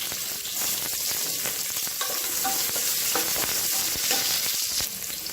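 Chopped large onions fry in hot oil with a bay leaf in a pressure cooker for a Tamil mutton recipe, giving a steady loud sizzle with scattered stirring clinks and scrapes throughout, no voices.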